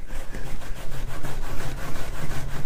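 Wet paint is scrubbed off wooden furniture doors with steady, rapid back-and-forth rubbing strokes, close and continuous with no talk.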